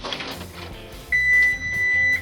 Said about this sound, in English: the 11-minute timer just went off